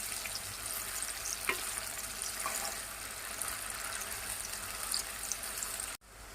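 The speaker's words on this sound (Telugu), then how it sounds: "ఆనియన్స్ వేగడానికి కొంచెం టైం పడుతుంది." Sliced onions frying in a hot pan give a steady close sizzle with faint crackles and an occasional stirring scrape, continuing evenly before a brief dropout at the end.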